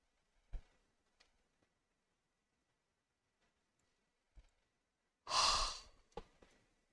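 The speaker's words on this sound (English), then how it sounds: "Yes, I am yawning." A single long, breathy yawn rises and fades over about half a second in a quiet room, set among faint scattered clicks and small mouth sounds.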